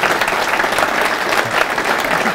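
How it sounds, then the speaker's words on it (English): A crowd at a speedway meeting applauds steadily, a dense, even wash of clapping that holds at full strength throughout without any talk over it. "Round of applause, please, for Ken Middleditch."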